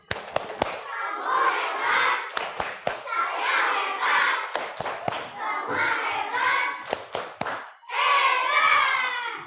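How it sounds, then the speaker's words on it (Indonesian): A classroom of Indonesian schoolchildren performs a patterned clap chant with their teacher: sharp, close handclaps in quick rhythmic bursts, interleaved with sung or chanted voices that carry through most of the passage. "Tepuk hebat."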